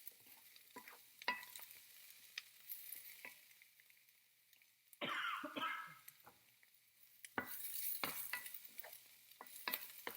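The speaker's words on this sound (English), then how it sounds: "Okay, stir that" Seasoned potato hash with black pepper stirred in a pan: soft scrapes and taps from the utensil recur irregularly over a quiet sizzle, with louder bursts of stirring and frying partway through.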